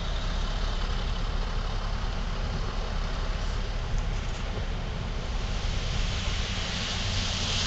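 Bobcat skid-steer loaders clear fresh snow on a Boston street, their diesel engines a continuous low rumble mixed with broadband wind-like noise, moderately distant and steady, no talking.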